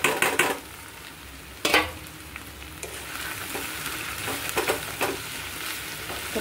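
A vegetable bhaji with chopped green chilli and salt frying in a pan, a steady sizzle punctuated by repeated sharp spatula scrapes and stirring knocks, close and fairly loud.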